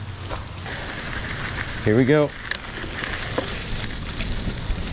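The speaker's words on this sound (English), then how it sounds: "But it's raining pretty hard." Heavy rain falls outdoors in a steady hiss during a ride toward the woods, fairly close and continuous, with someone speaking briefly over it partway through.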